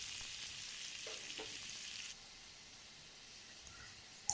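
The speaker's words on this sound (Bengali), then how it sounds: "তেল গরম হয়েছে, মাছটা এখন দিয়ে দিলাম।" Prawns hit hot oil in a pan and fry lightly, a soft, steady sizzle that drops to a quieter hiss partway through, with a couple of faint stirring sounds.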